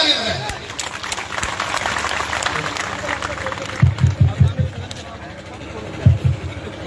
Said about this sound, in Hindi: बस जोरदार ताली बजाएं।